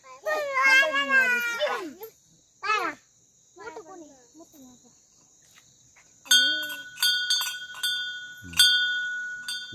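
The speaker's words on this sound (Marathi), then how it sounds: "घंटी वाजा बरं थोडी" A small hand bell rings repeatedly during a Datta Jayanti puja at home, producing bright metallic chimes in bursts that mix with children's voices and chanting.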